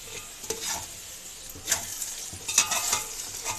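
Okra (bhindi) frying in a pan is stirred in a few scraping sweeps over a bright, steady sizzle, heard close and clear with no voices.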